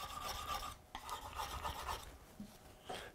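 A dull chisel is worked on a sharpening stone in a few scraping, rasping strokes, with short pauses between passes, close and fairly quiet.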